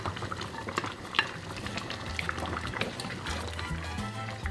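Pork menudo with diced potato and carrots being stirred in a pot, a steady scraping, bubbling mix with faint sizzling and soft liquid sloshing, close and continuous.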